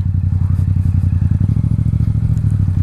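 A motorcycle rides off-road over rough terrain, its engine a loud, steady, close drone with rattling clatter and occasional thumps throughout, no voices.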